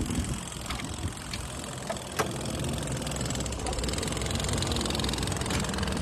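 A motorcycle engine runs steadily throughout, a close mid-pitched idling hum with a few sharp clicks or knocks along the way.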